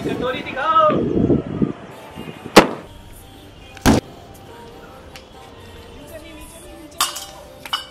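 Diwali firecrackers go off outdoors in three sharp, loud bangs spread several seconds apart, after a person talks at the start, with wind and light rustling between the blasts.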